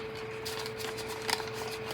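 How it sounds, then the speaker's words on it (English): Cash envelopes in a debt binder are shuffled and tucked in place, giving soft papery rustling and brushing that swells briefly, faint and close without speech. "And so I'm gonna just shuffle these up"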